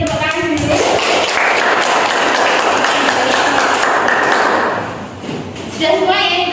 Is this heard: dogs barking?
no